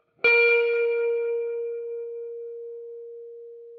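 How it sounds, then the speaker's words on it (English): A single instrument note played without a compressor, struck once and left alone to ring, its bright attack fading steadily over a few seconds. "So here is without the compressor. I'll hit a note and just let it ring out as long as it will."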